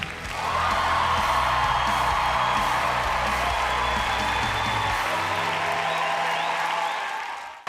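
A studio audience at Craig Kielburger's talk show with guest Martin Sheen breaks into dense, sustained applause mixed with whoops and cheers, holding steady for about seven seconds before tapering off.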